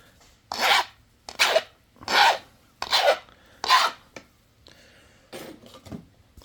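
A hand tool is sharpened with a file in five crisp, close rasping strokes at a steady rhythm, followed by a pause and a softer final scrape and clink.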